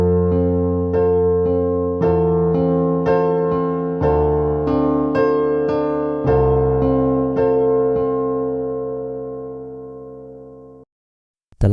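A piano plays a song with both hands together: steady repeated chords over sustained bass notes for about ten seconds, moderately loud and close, ending in silence.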